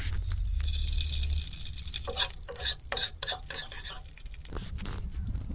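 A peanut sweet mixture being stirred in a pan, with spoon scrapes and wet, sticky sloshing in irregular bursts over a steady low hiss. The mixing is close and moderately loud, and no one talks.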